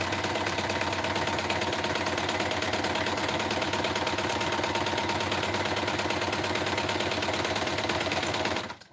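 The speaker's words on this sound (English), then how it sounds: "And I hope the sound of the machine is not incredibly annoying on the video." Sewing machine stitching a fabric banner, a fast, even mechanical chatter of the needle running loud and close without a break for nearly nine seconds, then stopping.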